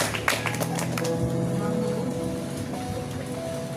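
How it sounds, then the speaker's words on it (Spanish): Congregation clapping in a Spanish-language church during a Wednesday prayer service, a steady dense patter of many hands that holds at an even level throughout, close and fairly loud. "Dele un aplauso al Señor."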